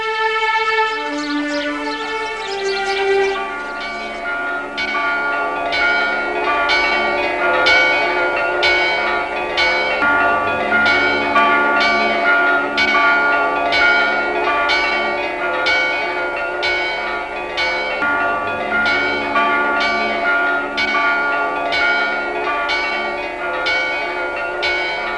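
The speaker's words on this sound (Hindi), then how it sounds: "हमारे पास एक घंटी है" Church bell tolling loudly and alone, with steady repeated strikes and a long ringing sustain over about twenty-five seconds.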